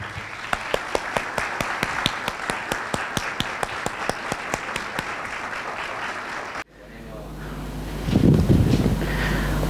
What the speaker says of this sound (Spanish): así que lo recibimos con un aplauso